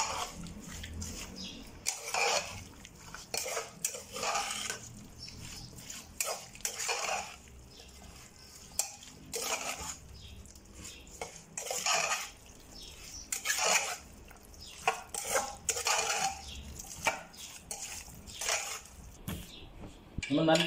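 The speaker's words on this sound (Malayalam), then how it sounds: "നമുക്ക് നല്ല പോലെ ഒന്ന് മിക്സ് ചെയ്തെടുക്കാം." Meat curry being mixed with oil in a pot, repeated scraping and clinking of a spoon against metal in uneven bursts, fairly quiet and close, with a voice speaking at times.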